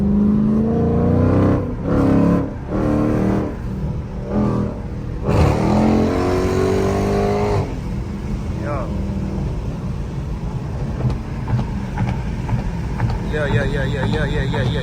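A Dodge Scat Pack with a loud aftermarket exhaust revs in several hard bursts on a city street, then settles into a deep rumbling idle, close and loud, with a voice shouting over it.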